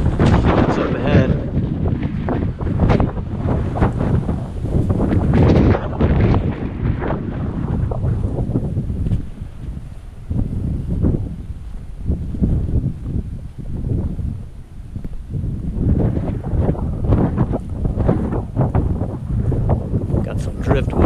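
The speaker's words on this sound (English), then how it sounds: "Super windy right now." Strong wind in the Sonoran desert roars in heavy, continuous gusts that buffet the microphone, swelling and easing without a break throughout.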